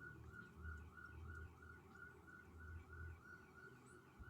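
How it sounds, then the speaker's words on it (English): Faint rapid wailing sirens pulse in a quick repeating rhythm, sounding fairly distant over a low rumbling background, in Tillamook, Oregon. "I don't know how long them sirens are going to be going off."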